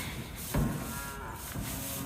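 Cattle on a farm moo, one loud low call standing out near the middle of the clip, with fainter lowing and steady background noise around it and no talk.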